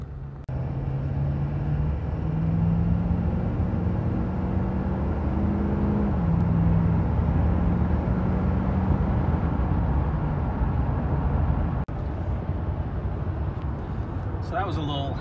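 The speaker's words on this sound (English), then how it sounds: "So that was a little half throttle pull, from what, I don't know, 20 to 70" A 6.7 diesel truck weighing about 9,000 pounds pulls hard at half throttle from roughly 20 to 70, its engine droning loudly and rising in steps through the gears from inside the cab, with a voice briefly speaking near the end.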